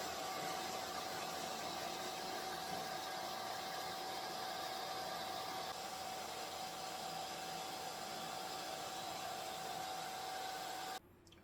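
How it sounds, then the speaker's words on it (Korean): A hair dryer blows steadily while a dog is dried after a winter bath. The whine is constant and close, with a thin tonal hum, and it cuts off abruptly just before the end. "보통은 드라이기 소리 듣고 도망가는데 드라이기 소리를 너무 좋아해"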